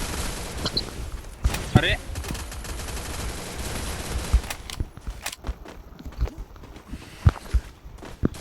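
Video game gunfire from an MP5, scattered bursts of sharp shots mixed with footstep-like clatter over a steady game background, while a person talks now and then.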